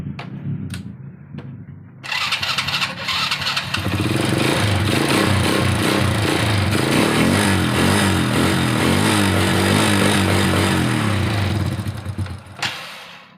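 Motorcycle engine running on a Denso spark plug during a plug test, starting up after a few clicks and settling into a loud, steady close-up idle with mechanical clatter, then cutting off near the end.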